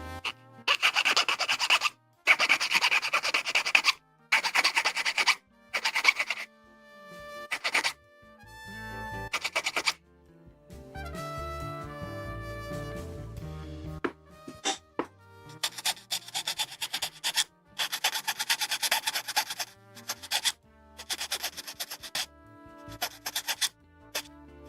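Rasping file strokes on a small plastic part from a 1/20 Hasegawa model kit, coming in repeated rhythmic bursts with short pauses between them, close and fairly loud.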